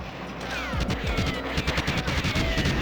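Rapid bursts of gunfire in GoldenEye 007 on the N64, shooting at gun cam turrets, with dense repeated shots and impacts over a continuous game soundtrack, no talk.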